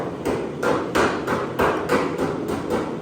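Hammer and dolly striking car sheet metal in about eight evenly spaced ringing metallic blows, close and steady, with no talking.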